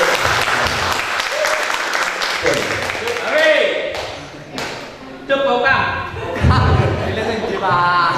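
Scouts and guests at a 2016 Hizbul Wathan regional gathering applaud in loud, uneven bursts, with a voice talking over the clapping and a few thuds and chuckles.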